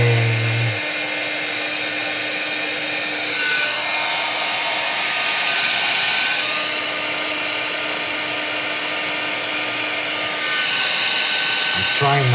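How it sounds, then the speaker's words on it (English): A heat gun blows steadily while heat-embossing die-cut sentiments in a craft setting, its whirring hiss running nearly continuously at moderate loudness, with only brief breaks at the start and end. "get the heat gun warm before you do this"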